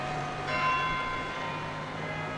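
Church bells chime on the pedestrianised Strand in London around noon, a steady ringing of sustained tones held over a constant wash of street and traffic noise.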